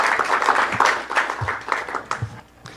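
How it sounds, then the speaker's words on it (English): An audience applauding at a pedestrian safety month launch event, a burst of mixed clapping with scattered louder claps that thins out toward the end. "I'd just like to give everybody a round of applause for a job well done."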